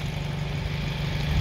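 Freshly installed vehicle engine idling steadily after a roadside breakdown repair in Tamworth, a continuous low rumble with a throbbing pulse, close and unchanging throughout.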